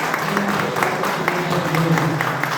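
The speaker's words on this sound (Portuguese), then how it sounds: "As palmas louvam o Senhor" Congregation applauding during a church service, a steady even clatter of many hands with a voice faintly underneath.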